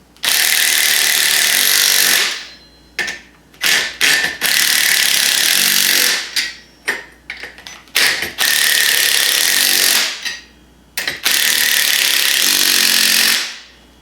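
Hand ratchet with a 1/2-inch socket tightening 5/16 aircraft nuts on a PRP seat install for an Arctic Cat Sport and Trail, heard as several close bursts of rapid clicking broken by short pauses, with no talking.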